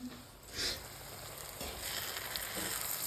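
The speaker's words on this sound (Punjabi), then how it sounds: "ਤੜਕਾ ਆਪਣਾ ਲੱਗ ਗਿਆ ਜੀ ਬਸ ਹੁਣ ਆਪਾਂ ਉਹਦੇ ਵਿੱਚ ਮਿਕਸ ਕਰਦੇ ਹਾਂ ਆਲੂ ਪਲੱਸ ਗੋਭੀ" Potato and cauliflower fry in a hot tempering, producing a continuous sizzle with a few brief louder bursts and scraping stirs. No voices are heard.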